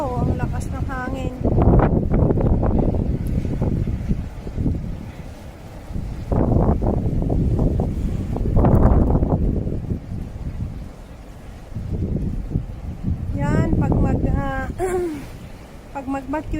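Strong gusting wind in snowy northern Norway roars and buffets the microphone in loud surging waves, with a voice speaking in between gusts.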